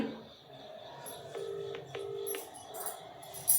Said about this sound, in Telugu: ఇప్పుడు ఫోన్ చేస్తున్నాం